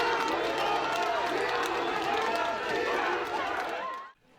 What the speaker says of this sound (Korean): 이준석 전 대표가 지지자들과 유튜버들의 환호 속에 고깃집 회견장에 들어갑니다.